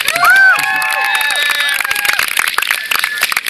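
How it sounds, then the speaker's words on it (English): Audience at a school fete breaking into applause, opening with a few high whoops and cheers before dense, close clapping carries on steadily to the end. "Let's give them a huge round of applause"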